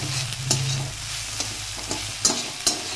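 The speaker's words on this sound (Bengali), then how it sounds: "এবার আমি এটা দিয়ে একটু নাড়াচাড়া করে নেব।" Stirring turmeric, green chilli and sugar in a hot pan: a soft steady sizzle with several sharp scrapes of a utensil against the pan, close and without talk.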